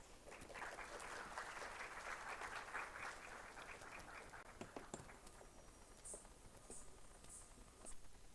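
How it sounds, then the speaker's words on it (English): Faint, distant audience applause at an inauguration event patters for several seconds, thinning out into scattered claps and a few stray higher-pitched sounds. "please welcome with a round of applause Vedika, Niharika, and Harshita, who will be"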